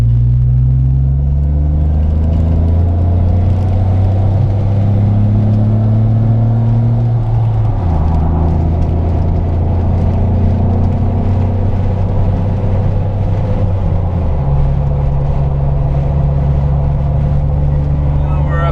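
A 2007 Jeep Wrangler with a lift kit cruises at highway speed, a bit over 70 mph, its engine droning steadily with gear-like pitch steps and constant road and wind rumble inside the cabin, while people talk over it.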